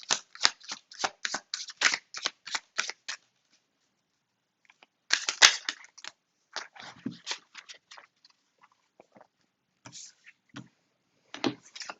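Tarot cards shuffled in a quick run of crisp riffling flicks, then, after a pause, a handful of softer slides and taps as single cards are drawn and laid down, close and fairly quiet.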